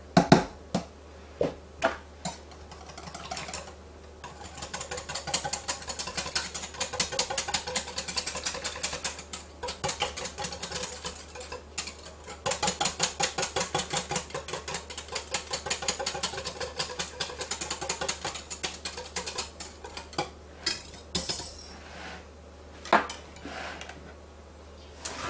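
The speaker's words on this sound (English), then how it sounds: "I'm going to whisk these 2 together." Buttermilk and maple syrup whisked together in a bowl, a fast steady clatter of metal against the bowl running almost the whole time with a few sharper taps at the start and end; no talking.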